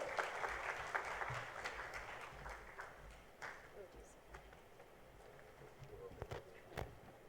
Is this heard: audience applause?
yes